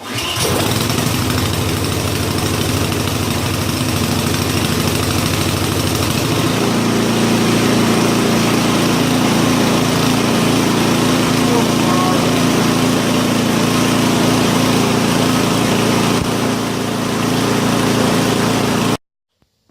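A Husqvarna ST151 snow blower engine runs after a cold start, a steady loud small-engine drone that settles to a lower, even idle partway through and stops abruptly at the end, close by.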